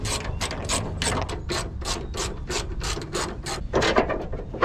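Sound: ratchet removing 10 millimeter bolts on a Nissan Gloria

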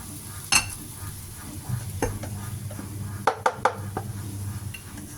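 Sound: stir-frying rice noodle rolls in a pan

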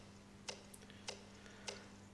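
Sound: footsteps sounding like clock ticking in video game Where am I?

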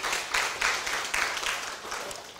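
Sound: applause

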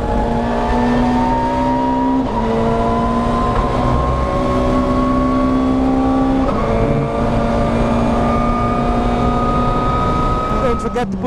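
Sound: WTCC race car engine at full throttle

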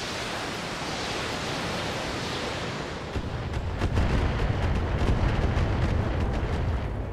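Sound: missile barrage explosions in video game BattleTech

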